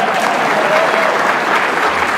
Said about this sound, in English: Nobody's gonna applaud or?